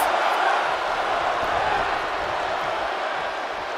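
Wrestling arena crowd in a steady, loud wash of massed voices for the whole stretch, a chant rising from the audience with no single voice standing out.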